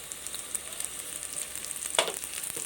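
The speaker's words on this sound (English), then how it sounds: "I am adding the curry leaves which I have taken and kept." Curry leaves hitting hot oil in a pan give a steady, close frying hiss with small popping crackles and a brief louder burst of sizzle partway through, with no voices.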